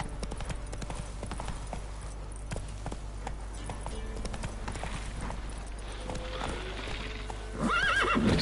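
Roach, a horse in The Witcher 3, gallops with steady rapid clip-clop hoofbeats, then whinnies loudly near the end, with game sounds underneath.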